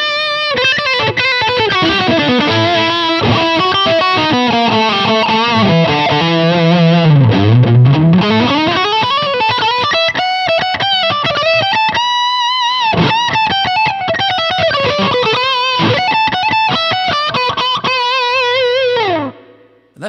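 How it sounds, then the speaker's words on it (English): An electric guitar plays with heavy distortion, sustained and loud, sliding notes and dense chords ringing continuously with only a brief break. "Let me just put a bit of distortion on here."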